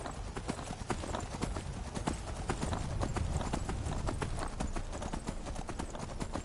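Horse hooves clip-clop steadily in Skyrim as a horse gallops along after a jump over water, a dense, continuous patter of hoofbeats filling the whole stretch at close range with no talk over it.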